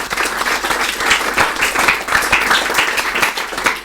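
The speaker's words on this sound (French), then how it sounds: "Nous bénissons le Seigneur avec les acclamations." Dense, sustained applause from a church congregation fills the space, steady and loud throughout with no break, a crowd of many hands clapping together alongside joyful acclamations.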